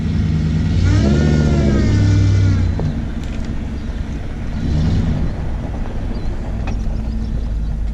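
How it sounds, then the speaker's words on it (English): Ford/Saginaw power steering pump running on a vehicle, a loud steady engine drone with a whining, wavering tone rising over the first few seconds, then settling into a rough rumble. "I'm going to try to give you a good demonstration here on the noise that this pump makes."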